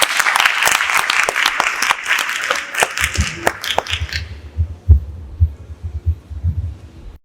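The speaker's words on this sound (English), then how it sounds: "A round of applause to encourage her." A burst of audience applause at a languages conference, loud, dense clapping for several seconds that thins out and stops, leaving a few low thumps and room noise.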